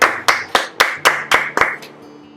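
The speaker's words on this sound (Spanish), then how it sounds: "Dale un fuerte aplauso allí donde estás." Seven sharp, evenly spaced claps ring out over about two seconds in a church, loud and close, with a faint low hum beneath and no talking.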